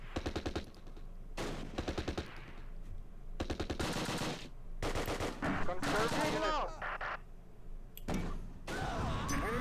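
Rapid gunfire from a Close Combat battle at Arnhem, Polish paratroopers against German SS, loud machine-gun bursts and rifle shots in repeated volleys with short pauses between them.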